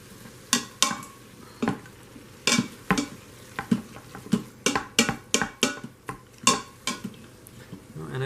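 A spoon scrapes and knocks against a pot while browned ground beef for hamburger stroganoff is folded and stirred, giving an irregular run of sharp clinks and scrapes over a soft, low sizzle, close and fairly loud.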